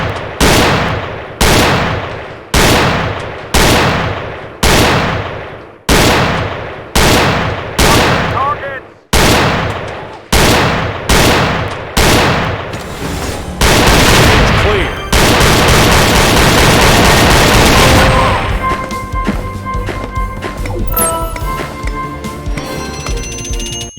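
Rapid gunfire in the Gun Club VR shooting game, loud close reports in a steady series of evenly spaced shots, then a dense continuous burst of automatic fire with ringing electronic tones toward the end.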